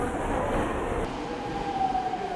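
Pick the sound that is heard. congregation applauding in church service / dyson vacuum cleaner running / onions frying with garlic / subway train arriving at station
subway train arriving at station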